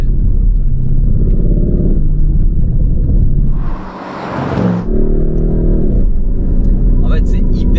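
A Lamborghini Urus V8 turbo with a full Milltek exhaust drones loudly and runs up against its rev limiter, a brief dip in the rumble before the engine note picks back up, with someone talking over it.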